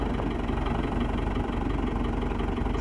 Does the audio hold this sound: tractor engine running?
yes